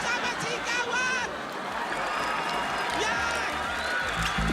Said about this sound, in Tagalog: Palakpakan naman kasama sigawan.